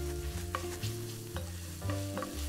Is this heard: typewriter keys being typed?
no